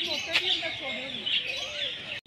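Pigeons kept in an aviary in a park give soft, continuous calls and chirps. Outdoor ambience surrounds them, along with faint hints of nearby voices.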